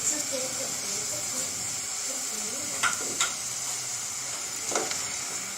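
Vegetables for a veg patty filling sizzle and hiss steadily in a hot pan, seasoned with soy sauce, chili sauce and vinegar, with a few sharp scraping stirs of a spoon against the pan cutting through the continuous frying.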